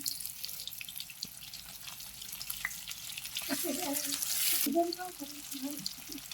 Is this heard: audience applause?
no